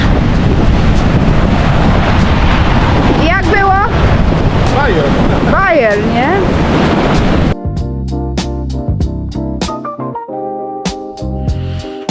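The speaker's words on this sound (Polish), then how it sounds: "Mamy dzisiaj ocean rozszalały" Roaring wind buffets the microphone over crashing Atlantic surf on a stormy day in the Exumas, with people talking and laughing; the scene then cuts to quieter tones and clinks.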